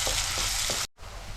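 Ginger garlic paste frying in a pan for a drumstick curry, a steady close sizzle with a few soft stirring clicks, cutting out abruptly to near silence before a quieter sizzle resumes.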